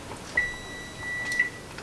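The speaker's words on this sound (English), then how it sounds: "I've just heard my oven beeping" An oven timer gives a short, thin electronic beep, followed by a second, quieter pip a second later, both faint above low room noise.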